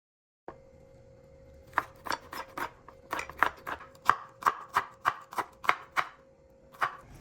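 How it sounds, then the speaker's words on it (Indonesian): Crushed garlic cloves are minced with a knife on a cutting board for a black pepper beef stir-fry, producing a run of about fifteen crisp, close knocks in an uneven rhythm over a faint steady hum. "Untuk bawang putihnya, kita geprek, lalu kita cincang."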